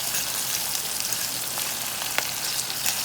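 Onions sizzle and crackle steadily in a hot pan as they caramelize for Jamaican cooking, a close, even frying hiss with scattered pops and no talking.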